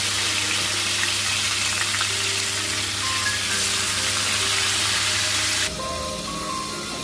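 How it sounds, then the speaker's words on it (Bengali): Pangas fish pieces fry in oil with salt added, a loud close steady sizzling hiss that drops slightly in level near the end, with no talk. "যতক্ষণ মাছটা ভাজা হচ্ছে"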